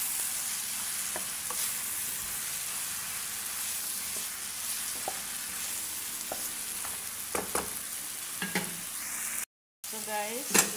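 Eggplant sizzles and fries in a hot pan, a steady close crackle with occasional scraping stirs and brief light clatter, and no voice over it.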